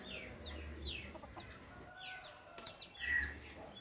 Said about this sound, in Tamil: அந்த அளவுக்கு ஆக்ரோஷமாக அந்த 2 கோழியும் சண்டை போடுது